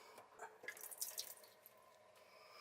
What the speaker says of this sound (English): the water dripping out of our toilet is really not a happy moment for us